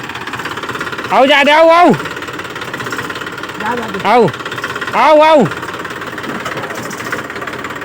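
A tractor engine runs steadily at idle, with two or three louder revving bursts rising and falling, while a man calls out repeatedly over it.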